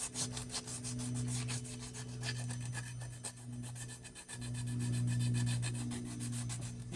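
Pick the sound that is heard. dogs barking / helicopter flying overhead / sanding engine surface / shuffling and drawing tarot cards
sanding engine surface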